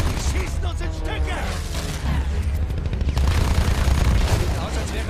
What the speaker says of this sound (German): Die schießen uns in Stücke.